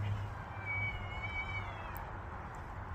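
A cat meows in a drawn-out, wavering cry that rises and falls over about two seconds, fairly faint and distant over a low background hum, with no talk.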